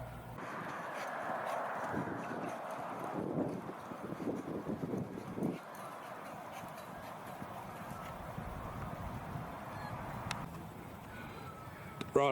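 Racehorses' hooves clip-clop on a hill track as a group moves up in step, faint and fairly distant under wind, with honking birds calling in the background.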